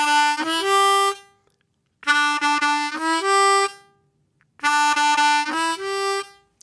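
Three bursts of bright, reedy harmonica notes mixing draw and blow notes, each a short rising run of chords, separated by brief silences.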